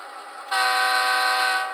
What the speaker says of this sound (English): So, we've got a nice horn and a bell.